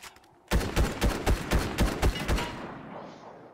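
Rapid gunfire from a burst of shots in an Indiana Jones video game, about nine loud evenly spaced cracks over two seconds, then a fading tail.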